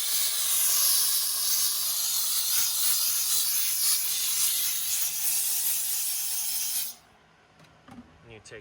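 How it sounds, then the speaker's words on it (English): Steady loud hiss of a steam cleaner detailing an Audi Q5, running continuously for about seven seconds, then cutting off abruptly, leaving faint quiet handling noises. "one area where I really love to use steam is in here."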